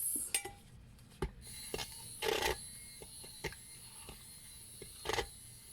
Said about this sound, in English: give this a wee little mix